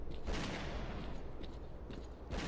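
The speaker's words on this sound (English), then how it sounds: "That's gunfire." Scattered bursts of gunfire crackle at a distance near the dredge station in the video game STALKER: Call of Pripyat, a few separate volleys against a low rumbling background.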